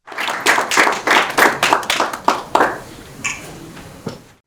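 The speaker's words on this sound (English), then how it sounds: "Please join me in giving a big round of applause for Dr. Seun." A small audience gives a panelist at a digital health panel discussion a round of applause, starting as rhythmic clapping from a few people nearby and thinning out into scattered claps before stopping.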